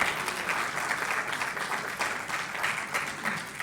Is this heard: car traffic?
no